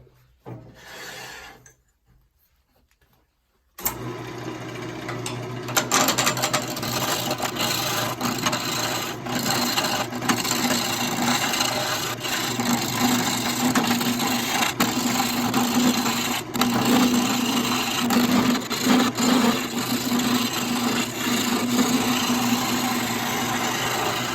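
A chisel cuts a wooden log blank spinning on a lathe while an Elder Wand is being turned, giving a steady, loud rasping and scraping drone over the motor hum that runs continuously after a brief quiet start.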